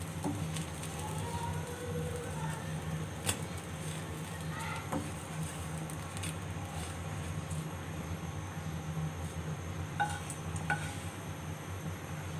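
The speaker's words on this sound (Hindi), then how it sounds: "थोड़ा सा ऑयल लगा के इसे तल लेते हैं हल्का सा" Bread lightly fried in a little oil in a pan at home gives a steady, even sizzle throughout, with a low continuous hum and a few faint clinks breaking through now and then.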